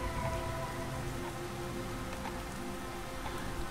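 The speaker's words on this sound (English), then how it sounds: "It is raining like crazy." Steady rain falls in the Starbound video game, a dense, even patter on surfaces that holds at a constant level with no voices.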